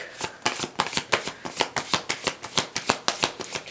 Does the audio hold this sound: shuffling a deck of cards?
yes